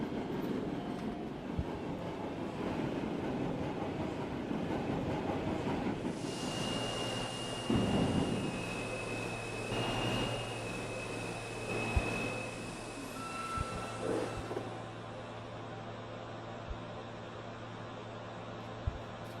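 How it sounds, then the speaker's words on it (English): A D express subway train runs along the track with a steady rumbling roar, rhythmic wheel clatter and a high metallic whine rising partway through, close and continuous for the full length. "This is a Slicen-bound D express train"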